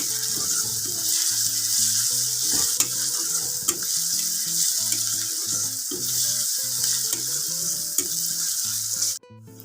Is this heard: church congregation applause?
no